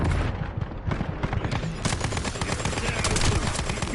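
Rapid bursts of automatic gunfire and explosions crackle through a firefight in the video game The First Descendant, dense and continuous, with voices faintly beneath.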